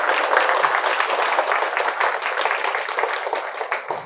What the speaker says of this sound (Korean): 우리 김희섭 작가님한테 큰 박수 한번 부탁드리겠습니다.